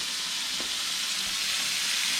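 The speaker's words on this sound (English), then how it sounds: "That's the same sizzle you're going to be hearing once it hits that fajita plate right there" Prime ribeye fajita meat sizzles loudly in a hot pan, a dense, continuous crackling hiss heard up close, with no talk.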